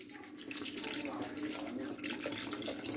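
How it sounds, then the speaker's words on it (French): Water is poured steadily for Tunisian lemonade, a continuous splashing rush lasting about three seconds, close and fairly loud, with no talk over it. "Et on va verser de l'eau."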